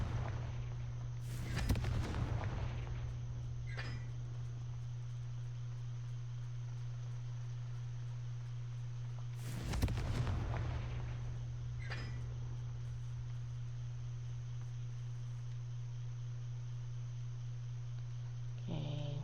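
Two loud bursts from the Confringo blasting spell in a Harry Potter style wizarding video game, each a sharp crack with a rumbling tail, spaced several seconds apart over a steady low hum, with smaller follow-up pops.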